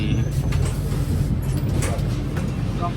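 Steady low rumble and hum inside a moving double-decker train carriage, with faint clatter and background murmur throughout.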